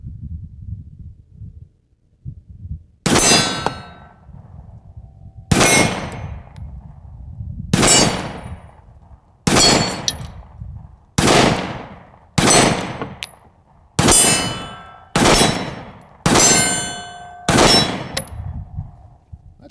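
Sig Sauer P365 pistol firing about nine loud, sharp shots at a steady pace of roughly one every one to two seconds, each with a short ringing decay, nearby and with no talking.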